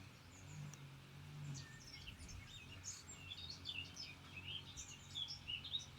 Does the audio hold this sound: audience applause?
no